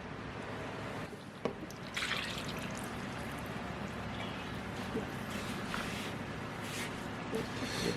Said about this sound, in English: add that to 1½ cups of almond milk. And then add 2 tablespoons of olive oil